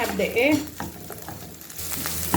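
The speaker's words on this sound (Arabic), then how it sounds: "هبدا اقلب كده اللحمه بتاعتي" A spoon scrapes and stirs through sizzling minced meat frying with onion in a hot pan, the frying crackle steady beneath the intermittent scraping.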